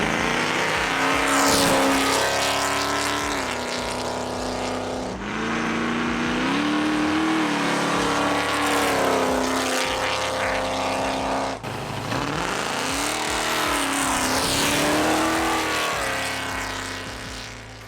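A 1986 Chevy C10 pickup with a 502 GM crate V8 revs hard and loud, the engine climbing and falling in three long sustained pulls with brief drops between, close by and without talk.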